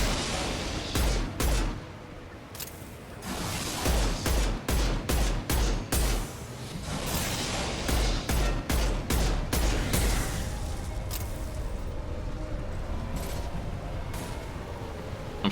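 Rapid bursts of gunfire aimed at a giant insect in the video game Mass Effect 2, with loud clustered volleys of shots separated by brief pauses over a constant rumbling battle background; no talking.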